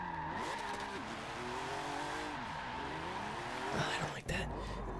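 Jaguar XJ220 drifting in Forza 7, a continuous engine drone with shifting pitch and tire squeal as the car slides through a turn, ending in an abrupt burst. A voice talks over it throughout.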